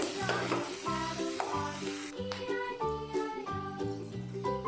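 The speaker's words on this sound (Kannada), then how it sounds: "ಈರುಳ್ಳಿನ ಈ ರೀತಿ ಚಿಕ್ಕ ಚಿಕ್ಕದಾಗಿ ಕಟ್ ಮಾಡಿದ್ದೆ ಅದನ್ನು ಹಾಕ್ಕೊತಾ ಇದ್ದೀನಿ ಈಗ ಇದು ಚೆನ್ನಾಗಿ ಫ್ರೈ ಆಗಬೇಕು" Finely chopped onions frying with mustard seeds in a sambar tempering for drumstick-leaf sambar, a soft sizzle beneath a loud, tinkling musical melody that dominates throughout.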